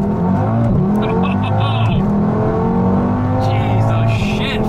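An Audi TT RS accelerates hard on a street, its engine roaring loud and close with several sharp upshifts breaking the rising drone, while voices talk over it.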